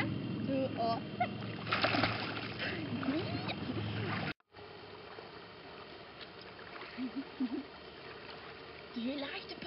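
Splashing of people jumping into the sea, with water churning loudly near the start and again around the middle, mixed with voices talking and calling.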